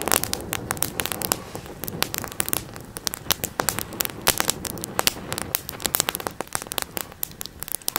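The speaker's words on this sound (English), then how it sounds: "I mean, that fire is just raging." Wood fire raging inside a Fire Puck stove, crackling and popping in dense, irregular snaps at close range with a steady roar underneath and no talk.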